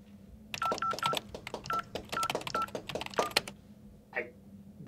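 A telephone keypad is dialed, a quick run of short beeping tones in an uneven rhythm, close and clear over faint background noise, followed by a brief vocal sound at the end.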